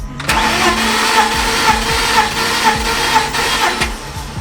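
A starter cranks an engine of unknown condition through a compression test, a steady mid-pitched rhythmic churning with regular pulses, loud and close throughout with no voices.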